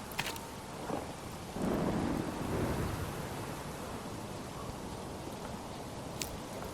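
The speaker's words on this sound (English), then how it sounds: "Sitting here in a rainy June." Rain falls steadily in the medieval city-building game Manor Lords during a rainy June, with a low thunder rumble swelling and fading and a few faint crackles, quiet and distant with no voices.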